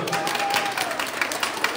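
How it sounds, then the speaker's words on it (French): An audience applauds a contestant in a pastry competition show, a fairly soft, steady patter of clapping with voices talking over it. "On peut l'applaudir, bravo Maïva."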